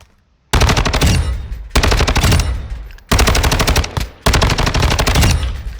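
A Bruen Bullpup assault rifle in Modern Warfare II fires four long, loud bursts of rapid automatic fire, each separated by a brief pause.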